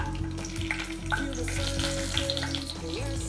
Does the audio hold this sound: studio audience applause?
no